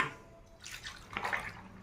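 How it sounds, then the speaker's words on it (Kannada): About a glass of water poured onto mango peels in a vessel, a soft brief splash and trickle, fairly faint and close. "ಈಗ ಈ ಸಿಪ್ಪೆಗೆ ಸ್ವಲ್ಪ ನೀರು ಹಾಕಬೇಕು ಒಂದು ಲೋಟದಷ್ಟು"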